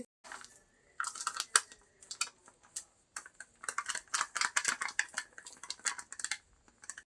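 Chopped ridge gourd stirred into gram flour batter in a bowl: quiet, close clinks and scrapes of a utensil in irregular bursts, pausing briefly before a steadier run of mixing strokes.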